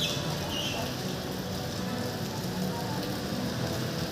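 Rain falls in a steady, even hiss with a soft patter on surfaces, continuous and moderately loud, with no voices over it.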